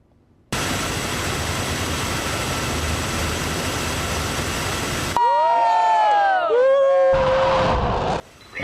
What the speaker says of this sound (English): Yep, that's some students cheering.